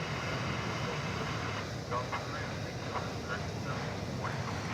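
A Sun Country Boeing 737-800, built in 2001, idles and rolls at DFW airport, its broad engine roar steady and fairly loud throughout, with a faint voice over it.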